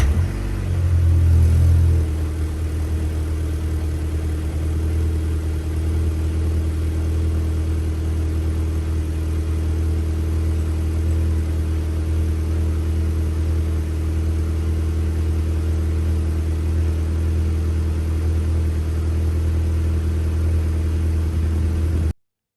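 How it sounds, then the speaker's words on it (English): A Golf MK5 GTI on its stock exhaust system cold starts with a brief louder flare in the first couple of seconds, then settles into a steady, deep idle rumble, close and alone. "let's get a cold start of the stock system"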